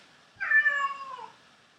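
A single drawn-out meow from a cat named Pastis, close and clear against a quiet room, rising then trailing off after about a second.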